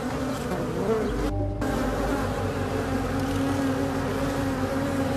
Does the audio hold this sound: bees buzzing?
yes